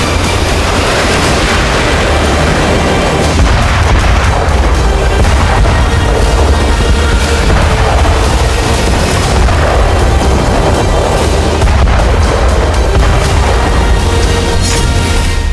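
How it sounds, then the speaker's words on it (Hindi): Heavy bomb explosions from a Russian Su-34 strike dropping FAB-3000 bombs on Kyiv, a loud, dense rumble of deep booms rolling continuously with no pauses. "रूस के Su-34 फाइटर ने कीव पर फैब 3000 बम दागे।"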